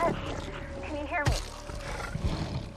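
A lion's roar rumbles up amid dramatic storytelling, with a sharp burst midway, while someone narrates over it throughout.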